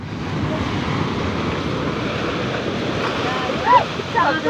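Steady roar of ocean surf washing in, with wind buffeting the microphone and a few brief shouts near the end.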